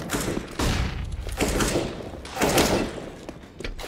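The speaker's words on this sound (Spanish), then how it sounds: "I'm throwing a flashbang." A flashbang grenade lands and bursts in a video game, with a series of heavy booming thuds and blasts spaced about a second apart, loud and close, with no talk over them.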